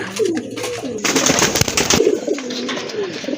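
A pair of magpie pouter pigeons coo in repeated low, throaty rolling calls, close and clear, interrupted midway by a burst of fluttering and scuffling.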